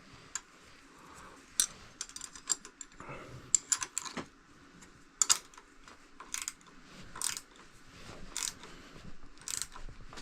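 A wrench tightens a bolt on a 1975 Honda XL250 motorcycle, giving close, irregular metallic clicks and ticks in short bursts against a quiet background.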